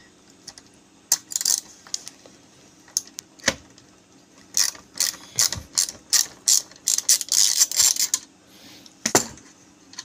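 A ratchet wrench with a 10 mm socket clicks in short bursts while loosening the fan nut on a damaged air blower, with rapid ratcheting strokes close up and brief pauses between them.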